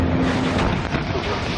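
A ship at sea hit by a powerful water cannon blast: a dense, roaring rush of spraying water and wind buffeting the microphone, loud and continuous throughout.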